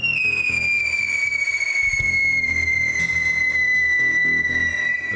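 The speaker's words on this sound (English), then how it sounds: "This causes the tube to vibrate and you get the whistle sound." Whistler firework screaming from a cardboard tube, one continuous piercing high whistle that slowly falls in pitch over a crackling, rumbling undertone, loud and close.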